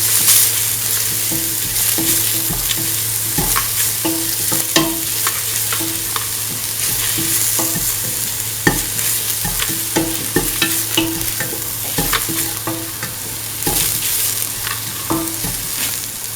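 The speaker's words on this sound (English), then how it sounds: "Saute and mix." Carrot mixture sautéed and stirred in a pan for a carrot yogurt bowl, a steady sizzle under repeated spoon scrapes and taps against the pan, close and continuous with no talking.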